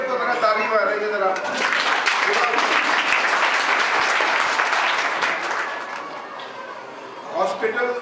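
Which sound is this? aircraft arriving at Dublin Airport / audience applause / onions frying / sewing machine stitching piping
audience applause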